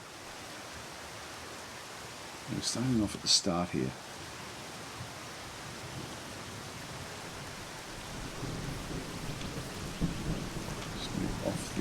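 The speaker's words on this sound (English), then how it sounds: "Oh, it's now raining." Steady rain with thunder in the survival shooter game Zero Sievert, a constant hiss of rainfall under a man's speech, with distant rumbling growing louder toward the end.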